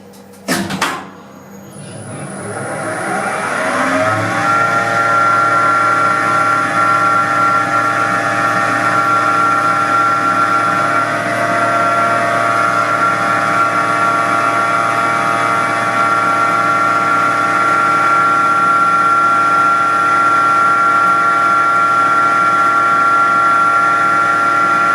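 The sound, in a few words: original lift motor running in the lift motor room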